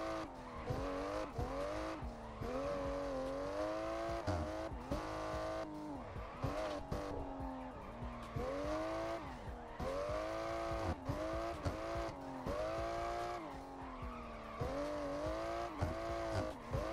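A car drifts through traffic in a racing video game, its engine revving hard with repeated rising and falling pitch while long tire squeals run continuously underneath.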